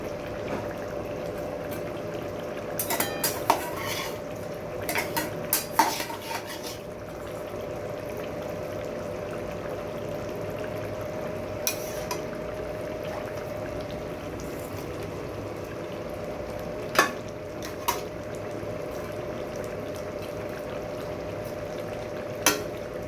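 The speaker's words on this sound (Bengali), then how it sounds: "এখন আমি মাছগুলোকে দিয়ে দেব।" Kajoli fish going into a pan of boiled potatoes, cooking with a steady, close sizzling hiss broken by a few sharp clinks and stirring knocks, no voices.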